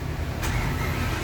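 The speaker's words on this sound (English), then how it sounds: "Okay, now we start our vehicle." A vehicle engine cranks and starts during a pre-trip inspection, a brief burst of ignition followed by a steady close idle rumble.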